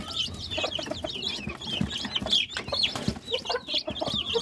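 A brood of day-old Rhode Island Red chicks peeping in rapid, overlapping high chirps, with soft clucks and shuffling underneath, close by and fairly quiet, no talking.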